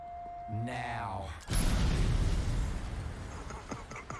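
A grenade blast in the Andor season 2 trailer hits as a sudden loud boom right after a brief tone and a rising voice, then rolls off into a fading rumble with a few scattered pops.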